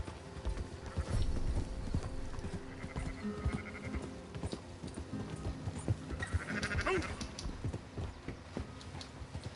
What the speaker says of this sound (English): Gotta guide these sheep all the way to town.